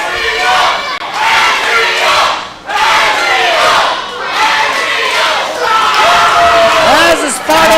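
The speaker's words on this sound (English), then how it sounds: "This crowd's fired up." A fired-up crowd at a ProSouth Wrestling event roars and cheers loudly and continuously, with a brief dip before surging again, and a few sharp shouts rising above the noise.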